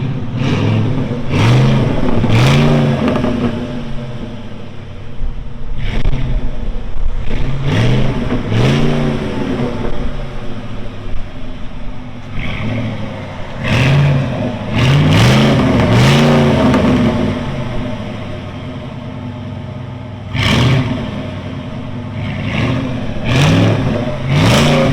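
A 2007 Saleen S331 truck with a supercharged 5.4L V8 revs repeatedly in loud, close bursts, each blip rising and falling with a whining supercharger spool over a throaty exhaust.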